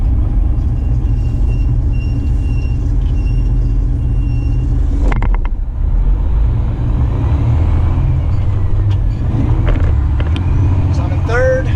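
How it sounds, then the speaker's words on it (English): A 13-speed semi truck drives with a loud, steady diesel rumble close up, broken midway by a brief pneumatic hiss and clunk as the gears shift, then the engine pulls on. "Now I'll kind of show you guys how this truck shifts."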